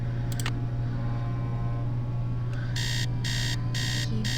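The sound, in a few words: alarm clock ringing in Nancy Drew video game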